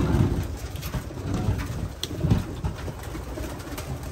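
Soft, low cooing of racing pigeons repeats in short murmuring bursts over a steady background rustle, fairly close but not loud.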